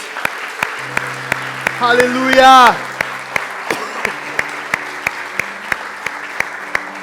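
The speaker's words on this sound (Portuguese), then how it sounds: "Dá uma salva de palmas para o nosso Deus" Steady, rhythmic clapping from a church congregation, with one voice calling out loudly partway through.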